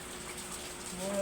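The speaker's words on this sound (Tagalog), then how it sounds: "At umuulan." Rain falling steadily outdoors, a dense, even hiss of drops at moderate distance, continuous and slightly swelling toward the end, with a faint tonal hum underneath.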